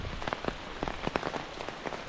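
Rain patters steadily on a surface in a rural garden during the rainy season, soft drops tapping irregularly and fairly close, with no voices.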